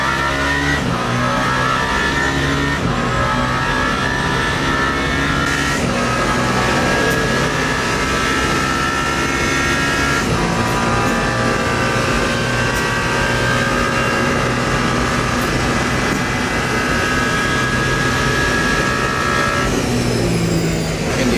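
Race car engine in Le Mans Ultimate at the 24 Hours of Le Mans, revving loud and continuous with rising and falling pitch through gear changes, several cars roaring close together with no voices over it.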